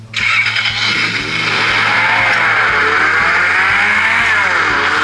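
A sports car in a mobile shooter game starts up and drives off, its engine roaring loud and close with a sustained, rising rev and no talk over it.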